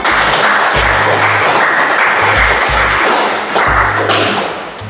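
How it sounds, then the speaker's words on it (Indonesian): A class clapping for a classmate, steady dense applause filling the whole stretch, loud and close, with a few heavier thumps recurring underneath. "Oke, beri tepuk tangan buat temanmu."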